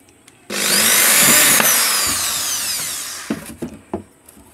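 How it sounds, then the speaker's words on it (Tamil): A small drill machine bores holes into a printed circuit board resting on a thermocol sheet, whining steadily for about three seconds close by, followed by a few short clicks and knocks. "எங்கெங்கே நம்ம ட்ரில் வேணுமோ அதற்கு இந்த மாதிரி ட்ரில் மிஷின் பயன்படுத்தி பண்ணிடலாம்."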